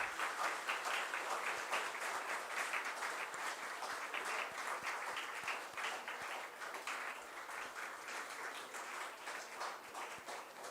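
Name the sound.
audience applause for conference dignitaries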